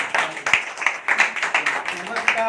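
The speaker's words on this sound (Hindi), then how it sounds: "जोरदार ताली होनी चाहिए।" An audience at an Indian gathering claps in a dense, continuous burst of applause that rises and falls in quick waves, close and fairly loud.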